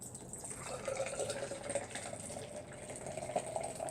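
Nitro stout from a can glugs and splashes into a stout glass, a close, gurgling liquid pour with bubbly fizz and no voices.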